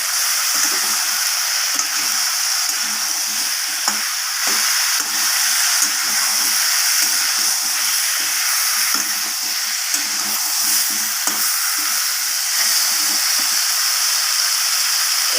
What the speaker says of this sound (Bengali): আমি সব কিছুকে আবারও ভালোভাবে সবজির সাথে মশলাগুলোকে আমি কষিয়ে নেবো